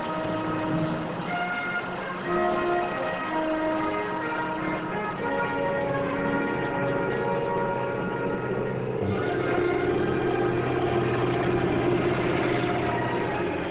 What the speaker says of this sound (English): Takeoff went without a hitch, and McCready and Kelly winged across the co